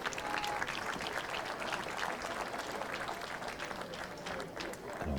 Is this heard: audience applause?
yes